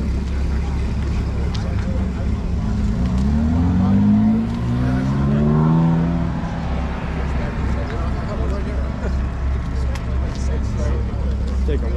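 Car engines, Porsches arriving at a car meet, rumble past at moderate distance, one rising and falling as it drives by, amid steady outdoor traffic noise with voices in the background.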